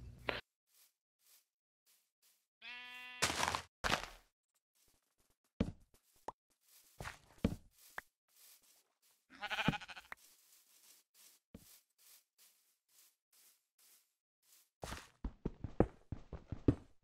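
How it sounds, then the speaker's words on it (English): A Minecraft sheep gives a single clear bleat in the Polycraft UHC modded game, set among scattered footstep-like taps and short game sound effects, with quiet gaps between them and a busier flurry of sounds at the end. "Alright, sheep, you have to die."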